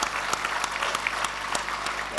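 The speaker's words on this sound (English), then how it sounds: "applause for him, man" Audience at a literary festival session applauding a 14-year-old attendee; dense, steady clapping from a seated crowd with sharp individual claps standing out, short and continuous.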